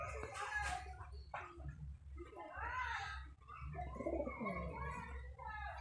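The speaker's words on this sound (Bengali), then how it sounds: "এগুলো সব হচ্ছে উড়াবাজির কবুতর।" Geribaj high-flying pigeons in Rajshahi coo and call among other birds, with clucking and rooster-like crowing mixed in over a steady low hum, close and moderately loud.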